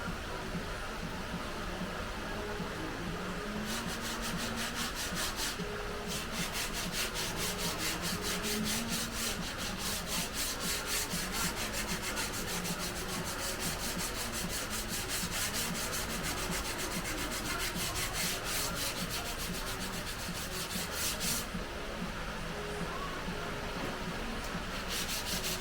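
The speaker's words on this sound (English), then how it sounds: "So let's start sanding them down." Continuous rhythmic rasping of sandpaper scrubbing back and forth over hardened filler, steady and close, with no voices.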